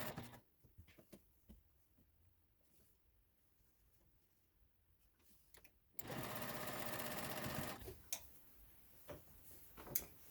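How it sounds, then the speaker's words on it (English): A sewing machine stitches fabric strips right sides together for a scrappy Trip Around the World quilt, running in a steady, loud whirring burst of about two seconds after quiet ticking and handling noises. "We are going to sew them right sides together again."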